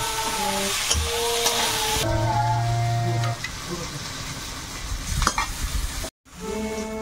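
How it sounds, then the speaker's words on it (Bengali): Fish roe and oil fry in a pan with a steady sizzle and stirring scrapes, while music plays over it and there is a brief cut to silence near the end. "এবারে মাছের ডিম আর তেলটা দিয়ে দেবো।"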